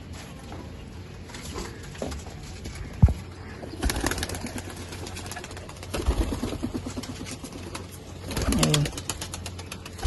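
Pigeons let out from a rooftop loft coo softly at close range, with scattered wing flaps and light taps over a low background hum, while someone speaks briefly.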